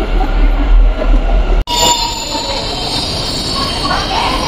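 Metro train arriving at a station in Bengaluru, with loud rumbling, wheel squeal and a high whine, a brief sharp cut partway through, then continued rolling noise close by.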